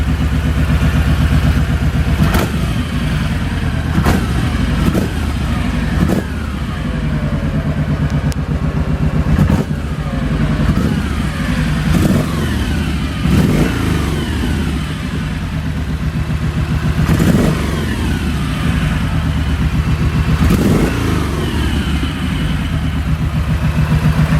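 Kawasaki Vulcan 1700 motorcycle engine running after an ECU update, a steady close rumble with a few throttle blips rising over a smooth idle, no talking.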